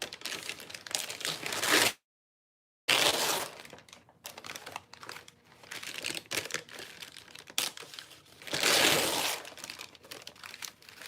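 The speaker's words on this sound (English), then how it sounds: "I'm gonna go ahead and tear this paper." Sheets of paper are torn by hand for a junk journal in repeated close, crackly rips and crinkles, with one short silent pause near the start.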